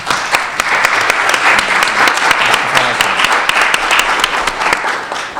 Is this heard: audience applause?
yes